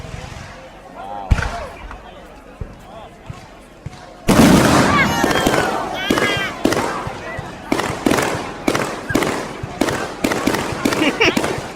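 Fireworks bang in a rapid string of sharp, loud bursts that grow denser after a quieter opening with a few isolated pops, with people talking beneath the blasts.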